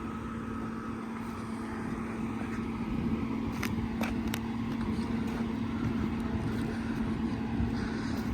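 MTZ 892 tractor pulling a PLN 3-35 plough through heavy soil, its engine droning steadily at close range with a constant low hum and faint clanks, no talk.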